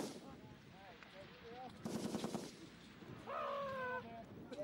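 An M-60 machine gun fires rapid bursts on the F. E. Warren heavy weapons range in 1992/93, with sharp rattling volleys separated by short pauses and voices talking faintly between them.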